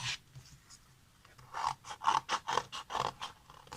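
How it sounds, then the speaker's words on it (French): Scissors cut around a paper contour in a run of short, crisp snips, about six in quick succession after a quieter start, close by and with no talk. "on va prendre la paire de ciseaux et on va couper le contour."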